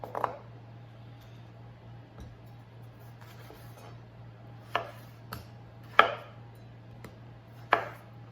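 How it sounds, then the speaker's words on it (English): Fresh garden tomatoes being sliced with a knife on a board, a handful of sharp, isolated chopping taps spaced a second or so apart against a quiet background. "these tomatoes I'm cutting up, these ones are from my garden"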